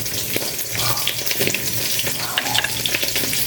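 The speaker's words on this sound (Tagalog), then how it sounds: "Iinit ko naman itong yellow fin na prito" Fried yellowfin tuna reheating in a pan gives a steady, close sizzle with crackling pops throughout, mixed with a watery hiss.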